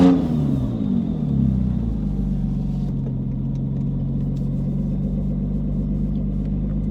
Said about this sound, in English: This one has a very aggressive exhaust.